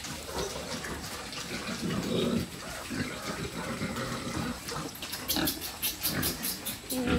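Pigs on a small provincial backyard piggery grunt and snort repeatedly at close range, mixed with splashing and pouring water, with rapid clicking clatter near the end.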